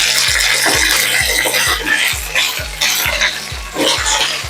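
Dried red chillies, green chillies and curry leaves fry loudly in a pan for Kerala mango perattu. A bright continuous sizzle runs throughout, with regular low knocks of a spoon stirring against the pan about twice a second.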